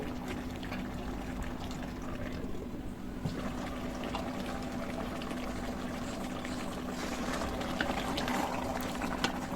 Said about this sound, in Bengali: গরুর মাংসটাকে ভালোভাবে এইভাবে নেড়ে চেড়ে ডাকনা দিয়ে ডেকে রান্না করব যতক্ষণ না একদম পারফেক্টভাবে মাংসটা সিদ্ধ হচ্ছে